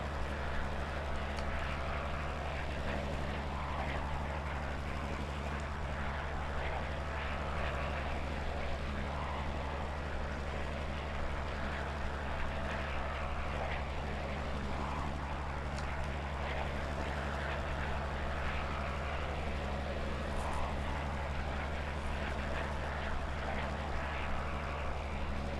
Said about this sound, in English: I'm over flying the airfield again